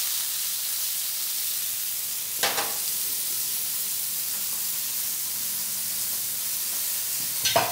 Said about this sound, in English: These lamb loins are starting to sear nicely.